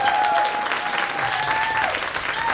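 Sustained audience applause fills a jazz band winter concert hall, dense and steady throughout, with a faint held tone drifting above the clapping.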